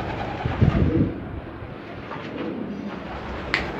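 Imported fancy pigeons coo in a low, throaty burst near the start. Quiet rustling follows, then a brief sharp knock near the end.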